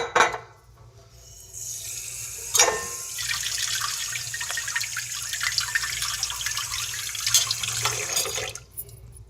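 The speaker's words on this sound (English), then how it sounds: "So let's rinse the eggplant." Running tap water splashes steadily into a sink as a whole eggplant is rinsed, a continuous close hiss of flow with small splashes and a brief sharper burst near the start.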